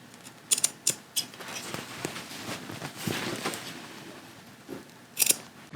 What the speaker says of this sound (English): we're gonna clip to this small dot